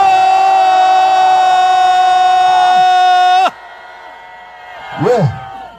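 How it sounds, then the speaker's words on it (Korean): A press-conference crowd gives a loud, sustained unified shout for about three and a half seconds, then cuts off sharply, leaving a quieter room and a short rising-falling voiced cry near the end. "다 같이 2초간 함성 한번 질러보면 어떻겠습니까?"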